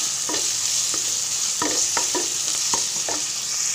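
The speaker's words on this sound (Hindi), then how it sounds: "प्याज को मैं अच्छी तरह फ्राई कर लूँगी" Finely chopped onion fries in a pan with a steady, close sizzle, broken by several sharp scraping strokes as it is stirred.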